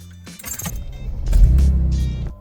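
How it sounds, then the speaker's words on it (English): A Mercedes car engine starts up close by after a diagnostic fault reset. A brief whirring crank and a couple of clicks lead into a loud catch that settles into a steady low running rumble. "let me start the car and see if we're all good in the hood"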